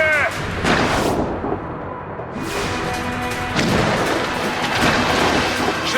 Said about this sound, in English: Chevalier is using mortar to stop Shay!